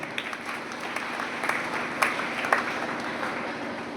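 An audience at a village career guidance program in Tankaria claps to welcome a guest, a steady, moderately distant patter of many hands with a few sharper claps standing out.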